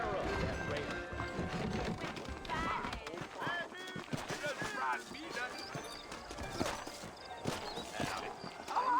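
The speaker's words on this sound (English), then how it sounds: "I got the horses saddled up and ready out front." Saddled horses clip-clopping in the Red Dead Redemption video game, steady hoofbeats running throughout under dense game music and spoken dialogue.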